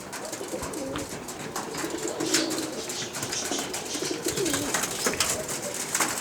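Pigeons in a coop coo softly in low, repeating murmurs under a steady wash of rustling and scattered chirps, with occasional wing flaps among several birds kept close by.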